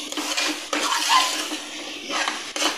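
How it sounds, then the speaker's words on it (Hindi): Water is poured into frying masala for aloo chicken curry, a splashing, hissing rush in a few bursts with clattering pan sounds between them, close up and fairly loud. "थोड़ा सा हम इसमें पानी डालेंगे ताकि भूनते हुए मसाला हमारा जले नहीं।"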